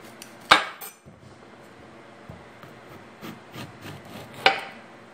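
A knife cuts through baliko on a home kitchen surface, giving two sharp, distinct chops about four seconds apart with faint scraping and tapping between them.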